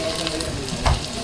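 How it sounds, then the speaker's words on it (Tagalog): Crushed garlic browning in hot oil alongside ginger for tinola, a continuous close sizzle with a brief louder crackle and stir near the end. "So, hintay lang natin mag-brown ng konti yung bawang."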